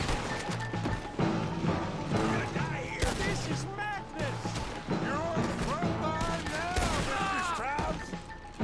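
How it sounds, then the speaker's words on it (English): A gunfight in Red Dead Redemption 2 on a day of robberies, with repeated close rifle and pistol shots and ricochets over game music, while a player talks over the action. "Este tiroteo."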